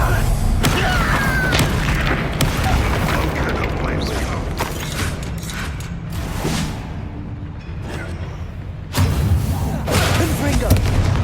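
Bombarda explosion spells in Hogwarts Legacy combat, with repeated heavy booms and thuds amid clattering mechanical battle noise, a sharp new blast near the end, and a voice briefly present.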